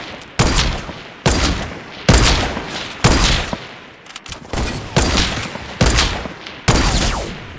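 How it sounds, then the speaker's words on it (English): Semi-automatic gunfire in Fortnite, loud and close, with about eleven sharp shots fired in a fairly even rapid rhythm, each followed by a short decaying tail, and no talking. "Apart from just spam the semi-auto and hope you get lucky."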